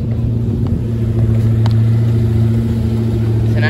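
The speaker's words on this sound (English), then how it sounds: "Something's revving." An Aston Martin engine runs loudly up close, a steady low mechanical rumble with a brief dip and rise in pitch, as if it is being revved.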